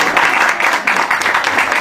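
Applause breaks out from an audience at a cycling association's one-year anniversary gathering, a steady dense patter of clapping across the whole moment.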